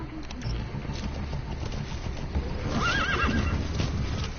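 Horse neighing in the Metal Gear Solid 5 video game, a rising whinny standing out late in the clip over steady clip-clop hoofbeats of galloping, fairly loud and continuous throughout.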